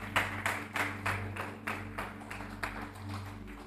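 Church congregation clapping in a slow, rhythmic beat, each clap distinct and moderately distant, over a steady low hum from the room.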